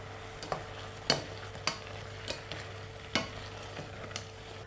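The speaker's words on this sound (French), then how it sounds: "et on enrobe les topinambours" Jerusalem artichokes are coated in butter in a pan, a faint sizzle beneath a series of soft, irregular stirring taps and scrapes, about eight in a few seconds.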